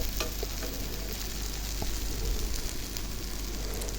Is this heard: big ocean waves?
no